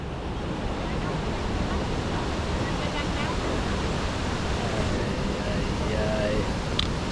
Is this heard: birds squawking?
no